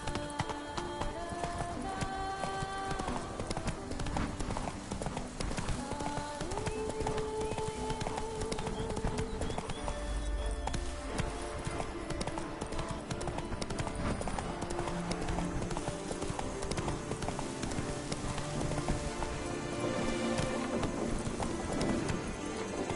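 Horse hooves clip-clopping in The Witcher 3 video game, a fast, steady galloping rhythm of hoofbeats running continuously beneath game music and ambient sound.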